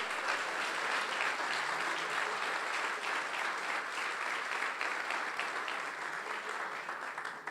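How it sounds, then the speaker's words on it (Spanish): Sustained applause from a church congregation, a dense even clatter of clapping that fills the whole stretch and fades slightly toward the end. "dele un aplauso al Señor si quiere adorarlo"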